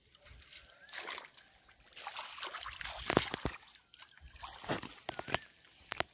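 Water sloshes and splashes in a pond being drained for fish as a wave is pushed through by people working in it, with uneven close splashes and slaps under scattered voices.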